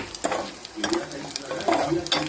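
Tempering for gongura dal sizzling in hot oil, close and lively, with bursts of crackling and spattering and a few light clinks of a utensil stirring.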